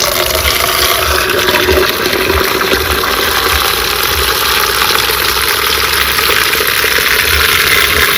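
Water pours steadily from a mug into a container, diluting a liquid fertilizer at one part to five, a loud continuous rushing splash with no talk over it.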